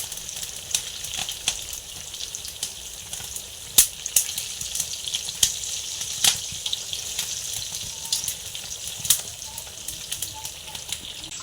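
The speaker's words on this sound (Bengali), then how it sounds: "এদিকে পটল ভাজাটাও কড়াইতে দেওয়া হয়ে গেছে ভাজার জন্যে" Pointed gourd (potol) frying in oil in a kadai, a continuous soft sizzle with scattered sharp crackles and pops.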